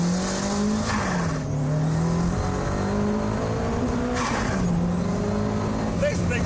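A Lotus Esprit runs at full throttle down a runway, its engine roaring loud and close as the pitch climbs through the gears, with a brief dip at each shift, under strong wind noise.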